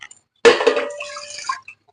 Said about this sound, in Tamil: இட்லி குக்கரில் தண்ணி ஊற்றி வச்சுக்கலாம்